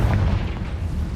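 A Confringo blasting spell goes off in Hogwarts Legacy inside a cave, giving a brief, deep, booming burst that fills the whole moment close and loud.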